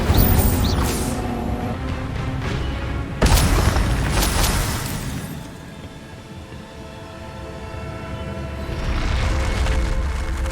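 The Incendio fire spell is cast in Hogwarts Legacy: a loud booming burst of magical flame erupts, then a rushing roar trails off and fades, with a softer swell near the end.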